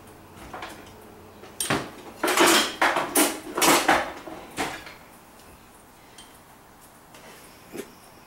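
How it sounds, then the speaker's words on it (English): A metal ladle scrapes and clinks against a pot while simple syrup is scooped out, giving a cluster of loud, close knocks and rattles followed by quieter single taps. "I think I will ladle my simple syrup in"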